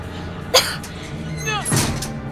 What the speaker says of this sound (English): They'll hear you coughing.